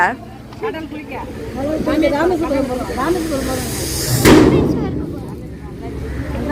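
A sharp crackling burst of firecrackers erupts midway in Rameshwaram, with hissing fizz around it and people talking underneath.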